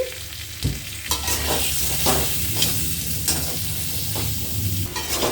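Spices with turmeric, salt, cumin powder, green chillies and fried pointed gourd sautéing in a pan, a close crackling sizzle broken by repeated scraping knocks of a spoon stirring the mix.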